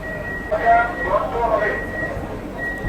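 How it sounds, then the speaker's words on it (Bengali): An AC local train standing at Sealdah station sounds its door-closing warning, a steady electronic beeping tone that runs through most of the moment amid platform bustle and nearby voices talking. "এবার সিগন্যাল দিচ্ছে গেট বন্ধ হওয়ার"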